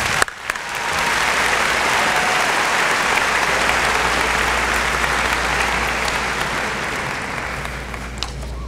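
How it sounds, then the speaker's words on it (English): A large crowd at a high school graduation ceremony breaks into loud, steady applause for the valedictorian, starting after a brief pause and holding strong for several seconds with occasional louder claps near the end. "Please give our valedictorian Reagan Dunham a round of applause."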